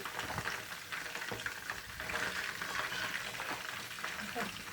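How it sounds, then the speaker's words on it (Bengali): Food sizzles steadily in a frying pan while iftar is being cooked during Ramadan, with occasional stirring scrapes over a constant hiss. The frying stays close and fairly quiet, and nobody speaks. "একটু সময় নিয়ে ভাজতে হবে, তাহলে ভিতর থেকে হয়ে আসবে।"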